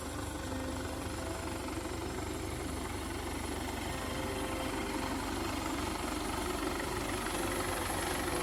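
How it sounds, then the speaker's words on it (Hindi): A Pawan Hans passenger helicopter arriving from Kangra at a Himachal Pradesh airport makes a continuous rotor and turbine drone, steady and moderately distant, with no talking. "ये सामने से हेलीकॉप्टर आता हुआ, ये कांगड़ा से आया है अभी।"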